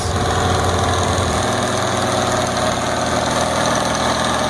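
A Farmall 806 tractor's International Harvester D361 diesel, a 361 cubic inch naturally aspirated inline-six, idles with a loud, steady low rumble and a dense mechanical clatter, slightly lower in pitch during the first second and a half.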